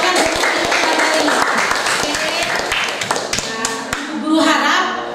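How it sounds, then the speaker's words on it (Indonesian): Students in a classroom applaud during a biology lesson: a steady burst of clapping, sharp individual claps standing out from the dense patter, with some voices mixed in. "Terima kasih, tepuk tangan."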